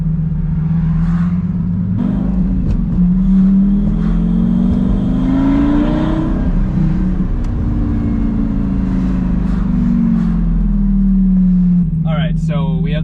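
A Lamborghini Gallardo moving through traffic, its engine droning low and rising and falling in pitch as it eases along, close and continuous, with a voice talking over it near the end.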